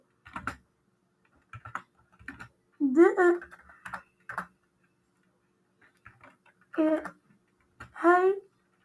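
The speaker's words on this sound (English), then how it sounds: "here let's type in some text" Typing on a computer keyboard comes through as short, scattered bursts of close clicks separated by pauses, with some brief voiced sounds mixed among them.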